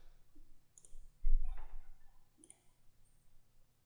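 Two crisp computer mouse clicks, about a second and a half apart, sound close and alone while modelling a stepped shaft mesh in ANSYS, with a soft low bump in between.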